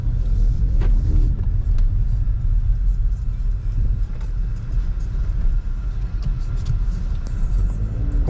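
Interior road rumble from a 2019 Audi A3 on a test drive right after its front shocks and suspension were replaced, a steady loud low drone of engine and tyres with no talking.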